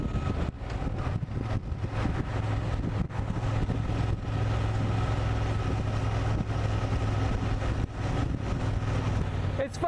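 A Honda Transalp 750 motorcycle is ridden with a steady engine drone and heavy wind rumble, while a rider talks over it.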